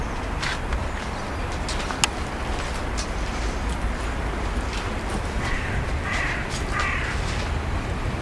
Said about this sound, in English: the crows really add much to it around here